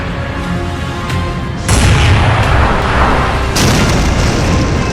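A cannon fires twice in an animated Cheems cartoon, each shot a loud, heavy boom with a rumbling tail, the second following a couple of seconds after the first.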